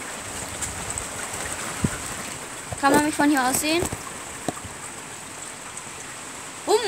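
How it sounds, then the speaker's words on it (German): Steady rain patters and hisses throughout while a person speaks briefly partway through. "Alter Schwede, es regnet, es regnet."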